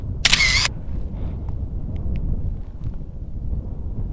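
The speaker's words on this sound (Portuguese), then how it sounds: "só se ouve mesmo o vento." Wind rumbles low and steady across the microphone in the Picos de Europa mountains during a motorcycle trip, after a brief sharp high burst at the start, with no talking.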